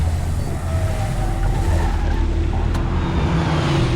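A car engine drones steadily at close range with a low, continuous rumble, in a rural fishing setting.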